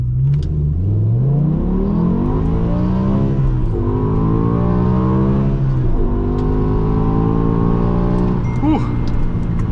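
A 2007 BMW M6 with a V10 engine accelerating hard from 0 to 60, loud and close from inside, the engine note climbing steadily through several gear changes with brief dips between shifts.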